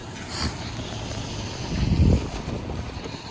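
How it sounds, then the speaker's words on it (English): Gusty wind buffets the microphone with low rumbling, swelling into a stronger gust before easing off. "It is pretty windy, as you can see."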